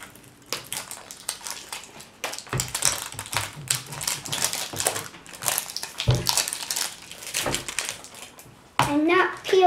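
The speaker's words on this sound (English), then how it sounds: "Let's just peel the top." The top of an LOL Surprise doll package is peeled back, making crinkly plastic crackles and tearing scratches close by, in bursts of varying loudness, while someone talks over it.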